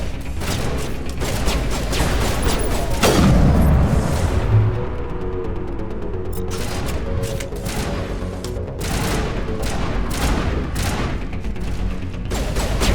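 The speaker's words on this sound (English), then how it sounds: "Fine, sniper rifle." Sniper rifle shots and heavy booms in the Mass Effect game, with loud cracks and rumbling impacts over a dense, continuous battle ambience.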